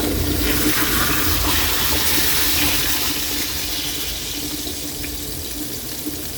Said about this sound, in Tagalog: Kaylee, lagyan ng tubig para tuluyan na siyang lumambot Kaylee ng ating pork.